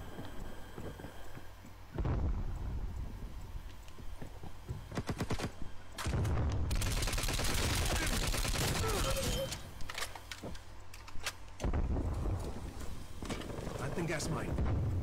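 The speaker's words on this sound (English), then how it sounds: "Shocking shooting." Video game gunfire: bursts of rapid shooting and heavy blasts come in waves at moderate loudness, with brief quieter gaps between volleys.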